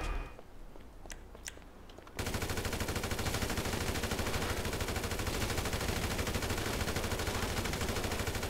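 Rapid automatic gunfire in the video game GTA, a dense continuous burst that starts abruptly after a couple of quiet seconds with faint clicks, loud and sustained to the end, no talking.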